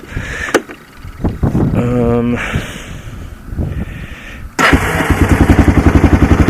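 A 2001 Kawasaki Lakota four-wheeler engine runs during a ride, with mixed noises and a voice early on, then from about five seconds a loud, steady, rapidly pulsing engine drone close by.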